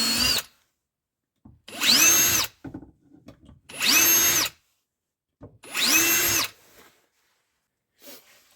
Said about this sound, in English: we're going to drill pilot holes through these